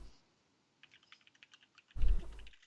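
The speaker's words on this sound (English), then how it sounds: "I hear typing." Light, rapid keystrokes on a computer keyboard tap out a short run of clicks, quiet and close, followed by a brief louder thump.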